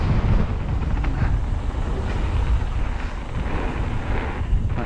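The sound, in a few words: wind blowing while riding a bike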